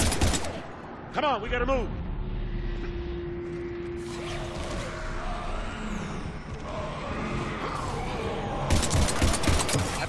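Sci-fi gunfire from the video game Mass Effect 3 crackles in bursts near the start and again loudly at the end, with battlefield clatter and a voice talking in between.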